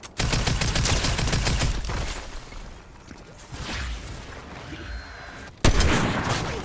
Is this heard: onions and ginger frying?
no